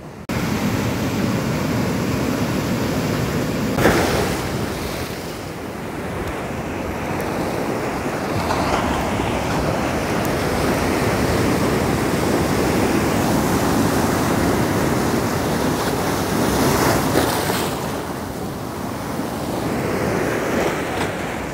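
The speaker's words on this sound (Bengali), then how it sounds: "গর্জন এবং ঢেউয়ের শব্দ নিয়ে এবং ঢেউ দেখানোর জন্য আজকের আমার এই ভিডিওটি আপনাদের জন্য করা।" Heavy surf pounds Kuakata beach during Cyclone Mocha, a continuous roar of breaking waves mixed with strong wind buffeting the microphone, with no voices.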